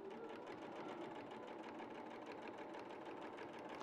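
A sewing machine runs steadily throughout, stitching a side seam with a continuous, fast, even mechanical whir at moderate volume, with no talk over it.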